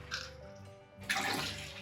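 Water poured into a brewing vessel while making a Bavarian wheat hefeweizen, a brief splashing rush that swells sharply near the end, loud and close with no talk.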